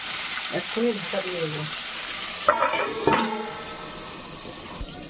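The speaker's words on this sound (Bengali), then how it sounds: "তেল গরম হয়ে গেছে, এবার মাছ ছেড়ে দেবো।" Pieces of boal fish frying in hot oil in a pan, a continuous, close sizzle with a few clattering knocks, while someone speaks briefly over it.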